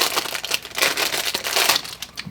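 A plastic bag wrapped around a leather wallet crinkles and crackles loudly and close up in quick, irregular bursts as it is pulled open.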